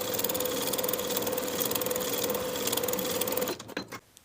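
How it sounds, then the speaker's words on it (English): A sewing machine sews the bottom seam of a pants pocket for pull-on barrel leg pants, running as a loud, steady whirring hum for several seconds before stopping abruptly, followed by a few soft clicks. "Sew the bottom of the pocket with 1/8 inch seam allowance."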